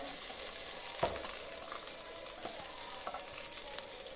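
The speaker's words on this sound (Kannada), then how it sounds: "ಇವಾಗ ಒಂಚೂರು ಕ್ಯಾಪ್ಸಿಕಮ್ ಹಾಕಿ ಕ್ಲೀನಾಗಿ ಫ್ರೈ ಮಾಡ್ಕೊತೀನಿ" Capsicum fries in butter for paneer butter masala, giving a steady, dense close sizzle with a few soft stirring knocks and scrapes, and no talk.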